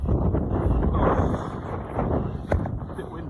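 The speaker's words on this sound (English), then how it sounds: "A bit windy." Wind gusting across the microphone at a reservoir outlet, a loud low rumbling buffet that swells and eases outdoors.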